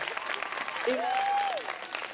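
Audience applause at a school closing convocation, honoring teachers: a steady wash of clapping from a crowd, moderately loud, with a brief whistle-like rising tone cutting through midway.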